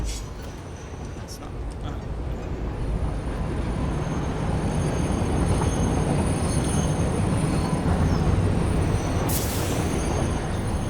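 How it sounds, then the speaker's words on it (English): Train driven manually in the video game Satisfactory, a loud steady rolling rumble of wheels on rail that builds and holds throughout, with faint high squeals and a brief sharp metallic accent near the end. "Let's manually drive the train for a moment."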